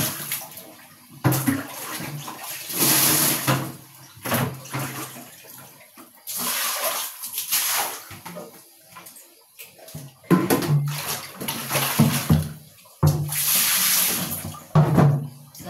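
Water is poured out in repeated splashing bursts, several separate pours with brief pauses between them, close and fairly loud.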